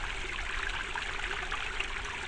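River water flowing over sandstone in woodland, a steady close rushing and trickling murmur with no pauses and no voices.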